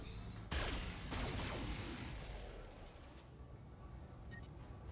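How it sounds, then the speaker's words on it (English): Incoming missile fire and weapon impacts in the Roguetech BattleTech mech combat game: a sharp loud blast, then a second hit, trailing into rumbling, fading explosion noise with no talk. "some more incoming missile fire for free"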